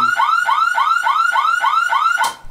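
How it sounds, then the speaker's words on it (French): Triple horn of a Soviet GAZ Volga M24 car blaring in a rapid warbling, repeating pattern, about eight loud rising chirps in quick succession, close and alone, cut off abruptly at the end. "Le triple avertisseur sonore cachait donc encore un secret."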